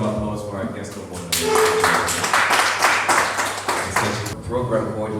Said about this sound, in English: Another round of applause for our guest of honor